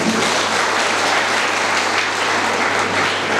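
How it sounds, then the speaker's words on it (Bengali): An audience at a school and madrasa winter sports competition in Keraniganj claps together, a loud, dense, continuous burst of applause that holds steady throughout. "একটা করতালি দিতে পারি সবার জন্য"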